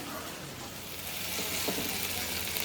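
Okra frying in a pan, a steady close sizzle with a faint stir partway through, continuous and even throughout.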